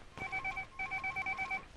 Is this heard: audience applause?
no